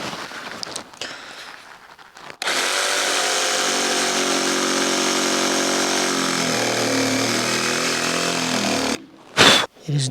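A jigsaw cuts through material during an outdoor kitchen build, whining steadily and loudly for several seconds before stopping, with quieter handling noises before and after.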